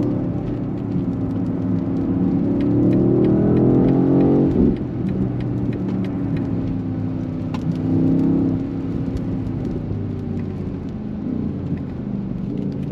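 A BMW XM with a 653 hp hybrid V8 accelerates hard, its deep engine note rising steadily through the gears with a brief shift break, loud and close, no talking over it.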